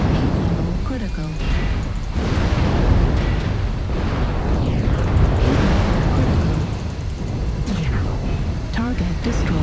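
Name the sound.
airstrike explosions in video game MechWarrior Online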